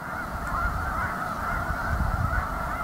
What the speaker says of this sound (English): I've never in my life seen this many snow geese in one place.